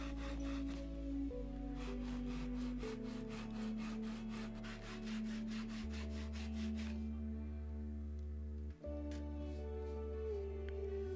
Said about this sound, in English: I could cut this piece out on the bench hook with a handsaw